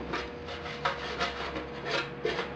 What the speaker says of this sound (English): that's wiping off the burnishing paste